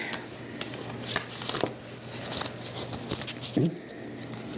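Tarot cards riffle and shuffle in a quick series of soft crackling flicks and taps, close by, with a brief low thump partway through.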